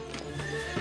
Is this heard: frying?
no